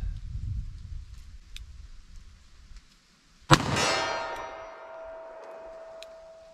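A single sharp, loud shot from a Smith & Wesson 686 revolver firing .38 Special +P rings out at an outdoor range and leaves a lingering metallic ring. A faint low rumble comes before it.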